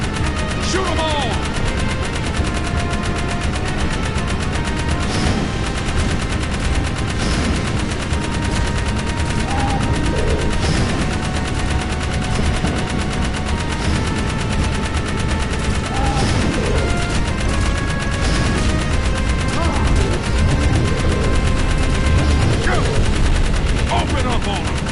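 Gunfire in the action video game Jak 3, with rapid machine-gun bursts and repeated shots layered over a dense battle soundscape and background music, loud and nearly continuous, while voices shout over it.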